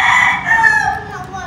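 A rooster crows loudly and close by among clucking chickens on a rural home property, the crow a long, wavering call over a background of farmyard noise.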